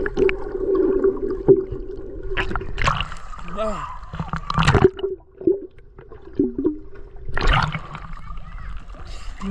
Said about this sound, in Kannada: ನನ್ನ ಗೋಪುರನ ನೀರಲ್ಲಿ ಮುಳುಗಿಸ್ತಾ ಇದ್ದೀನಿ